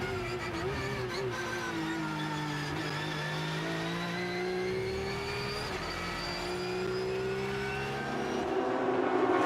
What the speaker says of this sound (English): there's nothing quite like listening to a flat six